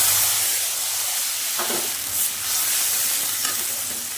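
Chili and cumin paste hitting hot oil in a pan, a steady close sizzle with a couple of sharper spitting bursts as it fries.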